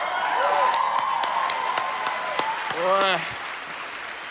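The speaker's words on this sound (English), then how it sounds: "Give a round of applause for that." Crowd applause and clapping at a celebration of Black cinema and television gala, steady dense clapping with sharp individual claps standing out and a brief voice calling out near the end.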